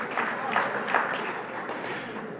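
Audience at a St. Francis College honors event claps for the honorees and special guests, a steady dense patter of many hands with a few slightly louder swells, no voices standing out.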